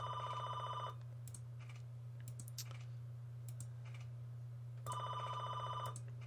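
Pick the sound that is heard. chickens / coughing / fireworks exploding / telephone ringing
telephone ringing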